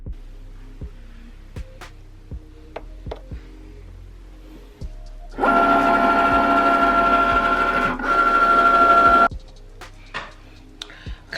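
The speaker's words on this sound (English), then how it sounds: "cut it out on my Cricut" A Cricut cutting machine cuts out a design, giving a loud, steady motorized whir for about four seconds with a short break, between scattered small clicks and handling taps in a quiet room.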